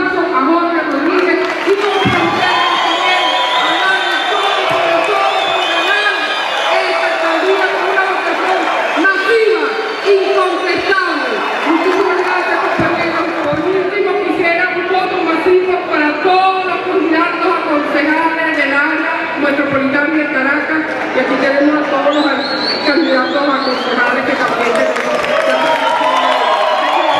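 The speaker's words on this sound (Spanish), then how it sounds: "Quisiera cerrar con un aplauso a Jorge Rodríguez." A packed theatre crowd at a political rally applauds and cheers for Jorge Rodríguez, sustained loud clapping with shouts and whoops rolling on throughout, voices calling out within the din.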